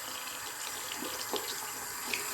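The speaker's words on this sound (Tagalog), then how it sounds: "Kaya binubuksan ko na lang yung gripo." Water runs steadily from a faucet into a sink, a soft continuous splashing heard up close and fairly quiet.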